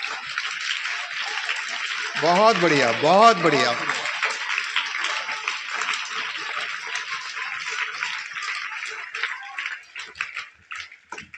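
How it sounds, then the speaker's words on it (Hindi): Applause from an audience at a school campus after a Hindi poetry recitation, a wash of clapping running throughout with a voice speaking over it partway through. "उनके लिए भी बीटी पब्लिक स्कूल परिसर से तालियां पहुंचे।"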